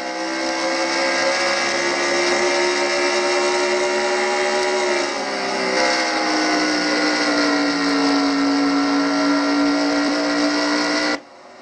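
A race car engine roars steadily at high revs, heard from a rear bumper onboard camera during a Castrol GTX Cup Series race, a constant loud drone whose pitch dips and shifts slightly before cutting off abruptly at the end.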